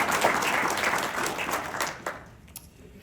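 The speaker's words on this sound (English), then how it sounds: "So a round of applause for Cox." Audience applause at a veterans panel event honouring a company, a burst of clapping from a crowd that fades over about three seconds, moderately loud and then thinning out.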